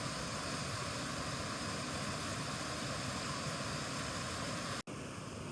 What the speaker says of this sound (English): if you can hear it, that's a waterfall